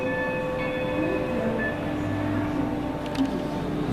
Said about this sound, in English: That noise behind us is the railroad.